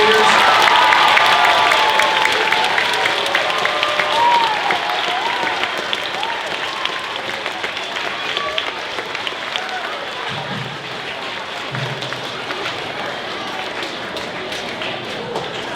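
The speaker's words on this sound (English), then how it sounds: "Can we give a round of applause to Dave Taylor and all the sixth graders?" An audience claps a round of applause for a teacher and sixth graders at a school event, dense steady clapping that starts loud and slowly thins over about fifteen seconds, with a little talk near the end.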